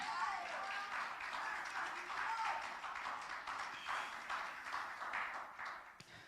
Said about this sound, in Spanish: ¿Cuántos se atreven a dar un aplauso al Señor por eso?